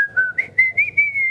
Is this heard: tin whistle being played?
yes